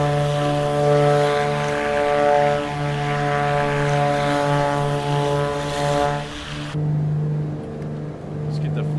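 A twin-prop BlackSquare Duke climbs out after takeoff in Microsoft Flight Simulator, its propellers giving a loud, steady droning hum with strong even tones that carry unbroken through the whole stretch.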